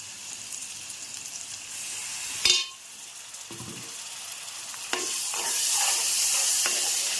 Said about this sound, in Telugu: మొత్తం బాగా వేగాలి బాగా వేగాక ఒక నిమిషం